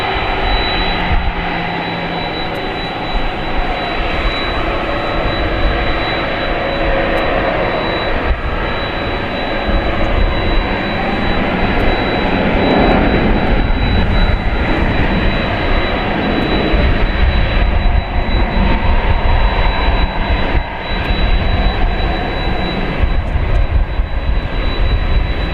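A jet airliner roars loud and steady during takeoff at Dallas Fort Worth airport, a dense broadband rumble with a thin high whine sustained for the full length; no one speaks.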